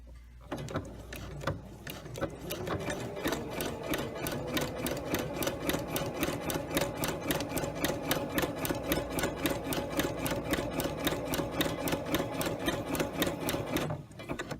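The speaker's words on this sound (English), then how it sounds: "you're going to want to zigzag as close as possible to the stitch that you just sewed on the right side of this line" A sewing machine runs a zigzag stitch along a fabric seam, its needle hammering in a fast, steady mechanical rhythm for about thirteen seconds, close and continuous, with brief quiet at the start and end.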